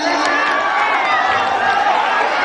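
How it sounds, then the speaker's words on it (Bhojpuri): Audience applause and crowd noise at an open-air Bhojpuri festival stage, the Akhil Bharatiya Virat Bhojpuri Mahotsav, a steady dense wash of clapping that holds at an even, loud level throughout. "जोरदार ताली बजाइए"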